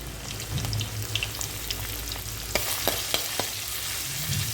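Crushed ginger and garlic fry in coconut oil with a steady, close sizzle, while occasional stirring clicks and scrapes sound from the pan.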